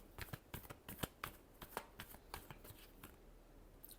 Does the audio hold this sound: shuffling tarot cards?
yes